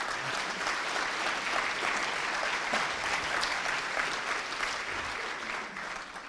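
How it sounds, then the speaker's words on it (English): Sustained applause from a conference audience for the speakers at DevConf.cz, a dense steady clatter of many hands that holds for several seconds and then starts to thin toward the end. "So another round of applause for all the speakers."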